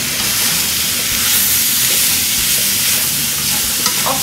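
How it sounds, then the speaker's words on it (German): Sliced meat (Geschnetzeltes) frying together with onions in a pan, a loud, continuous close-up sizzle and hiss with faint stirring scrapes, no talking. "Das Geschnetzelte wird dann zusammen mit den Zwiebeln angebraten."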